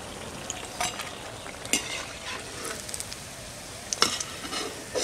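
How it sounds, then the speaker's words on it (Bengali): Raw mango chops sizzle in hot oil in a village kitchen, a steady crackling fry broken by several sharp scrapes and stirs of a utensil, close and with no talk. "এইভাবে সব চপগুলো আমি ভেজে নেব।"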